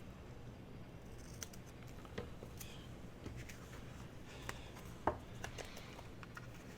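Scissors trim the edge of a paper napkin during a junk-mail pouch craft, giving a few quiet, scattered snips over a low steady background hum, with no voices.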